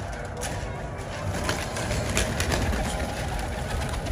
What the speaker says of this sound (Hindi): ये माशाल्लाह दोस्तों कबूतर है